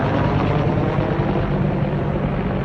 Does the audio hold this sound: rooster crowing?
no